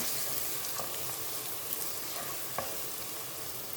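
Egg curry masala with added chili sizzles and fries in a pan while being stirred, a steady close hiss with a few soft scraping clicks of the spoon, no talking.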